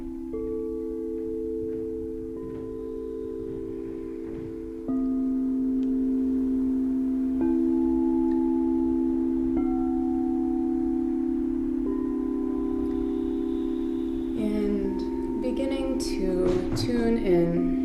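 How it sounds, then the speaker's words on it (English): Several singing bowls ring with long, sustained overlapping tones, each new strike layering another steady hum; near the end brighter, shorter metallic rings cluster together over the drone. "I'll just start by toning a few of these bowls"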